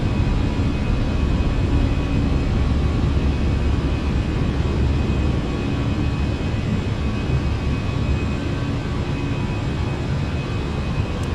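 Airbus A319 airliner taking off and climbing out in a flight simulator game, with a steady, loud, continuous jet engine roar and broadband rush holding throughout, no talk.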